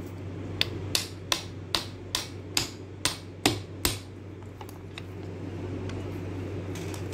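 Nine sharp metallic hammer blows strike a special removal tool while pushing the drive shaft on a Robot Coupe MP550 Ultra mixer, evenly spaced and close, over a steady low mechanical hum; then the strikes stop and only the hum remains.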